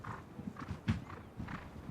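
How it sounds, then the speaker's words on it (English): Racehorses at jump practice move past, their hooves thudding in an irregular clip-clop with one heavier close impact, moderately loud against a quiet outdoor background, with no talk. "The horse at the back there with the white faces, of course, called Meatloaf"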